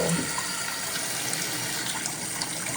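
Water runs steadily from an upstairs bathroom sink tap, a continuous close gushing stream with no talking.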